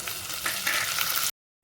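Chopped tomatoes hit hot oil with fried onions and a pinch of sugar, giving a bright, steady sizzle that cuts off abruptly for a moment before resuming.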